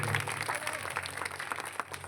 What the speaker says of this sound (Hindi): तो इनके लिए एक बार और जोरदार तालियों से स्वागत।